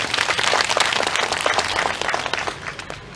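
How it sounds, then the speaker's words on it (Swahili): A crowd at a county launch event for an Inua Jamii registration program in Nyamira breaks into loud, dense applause that fades slightly toward the end. "Tupige makofi."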